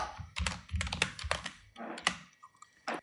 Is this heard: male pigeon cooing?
no